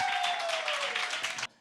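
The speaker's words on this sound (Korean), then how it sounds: "입장하실 때 열렬한 박수를 부탁드리겠습니다" Studio audience applauding as a guest walks onstage at a Korean live talk show, a dense steady wash of clapping with a sustained tone running beneath it, cutting off abruptly near the end.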